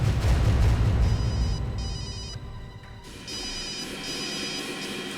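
A telephone rings in a TV crime drama scene, its bright electronic trill coming in repeated pulses over a steady background hum, with no one speaking.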